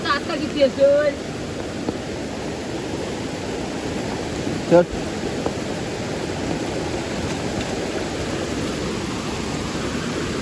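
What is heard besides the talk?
rushing flood water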